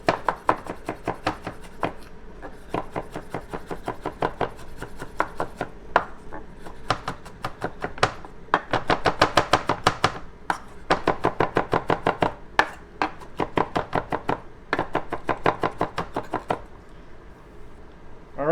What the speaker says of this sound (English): Smash it first. Be careful with the hands. There we go, and then just a quick rough chop.